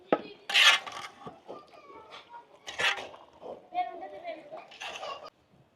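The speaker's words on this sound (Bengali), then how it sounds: "এবার আবার নাড়াচাড়া করতে হবে" Lentils and bean seeds are stirred in a cooking pot for pachon, a Khagrachari hill New Year dish, giving intermittent raspy scraping and rubbing strokes while people talk over it.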